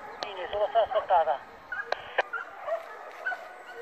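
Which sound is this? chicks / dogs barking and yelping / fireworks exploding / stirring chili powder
dogs barking and yelping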